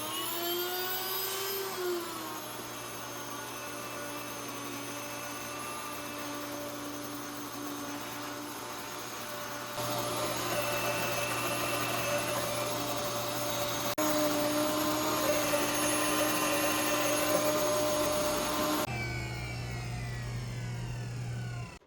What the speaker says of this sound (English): This mill is pretty loud. It's the Wonder Mill.